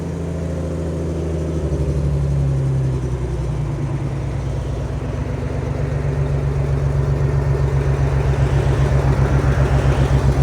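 A rock crawler truck engine with open headers idles loudly and steadily with a rough, lumpy pulse, its raw exhaust note picking up slightly partway through, with no voices.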